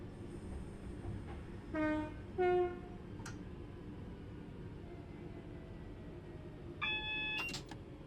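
A freight train in the Train Sim World 5 simulator, faint distant rail rumble broken by two short horn blasts, a brief click, and later another pair of horn notes, with no talk.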